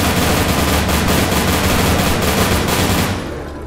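Rapid automatic fire from a gun in the video game Incision, a loud, continuous stream of close shots that stops abruptly near the end, with no talking.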